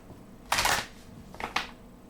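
Deck of playing cards shuffled in two quick bursts, a riffle followed by a shorter flutter, close and fairly quiet with no talking.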